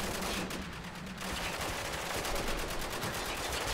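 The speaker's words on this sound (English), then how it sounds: "Some heavy fire going down." Heavy sustained gunfire in Spec Ops: The Line, a dense continuous stream of rapid automatic bursts with a brief lull near the start, loud and close with no talk over it.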